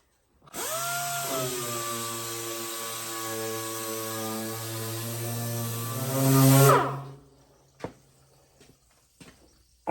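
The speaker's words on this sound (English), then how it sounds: "Okay, time to hit it with the sander." A power sander smooths body filler on a 1972 VW Super Beetle, a loud steady whine running for several seconds, rising briefly before cutting off, followed by a few faint knocks.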